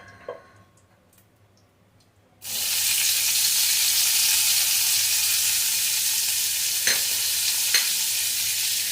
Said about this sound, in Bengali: এবার আমরা এর মধ্যে দেব পেঁয়াজ কুচি।